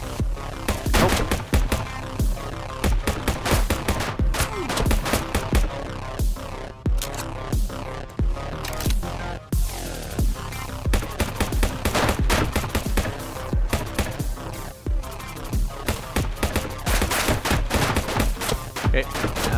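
Rapid bursts of automatic rifle fire in Shotwood VR, loud and close, with sharp shots rattling in quick strings that pause briefly between volleys, and a player speaking now and then.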